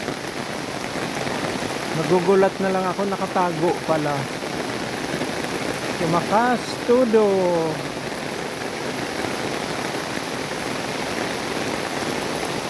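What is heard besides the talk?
heavy rain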